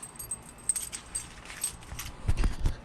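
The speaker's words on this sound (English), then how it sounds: "trying to find the keys" Car keys for a Mercedes E55 jangle and clink in short bursts, faint and close, growing busier toward the end with a few soft thumps.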